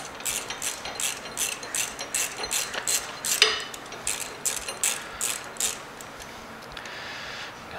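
Ratchet tightening bolts on a motorcycle brake pedal of a 2022 Road Glide ST, a close rhythmic series of quick clicking bursts repeating steadily, slightly fainter toward the end.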